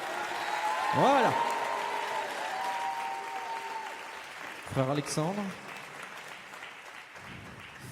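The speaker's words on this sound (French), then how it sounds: "on a dit un tonnerre d'applaudissements" Applause from a theatre audience greets performers taking the stage at a live comedy-concert, a steady wash of clapping under someone speaking, with a brief cluster of whoops or cheers near the middle before it tapers off.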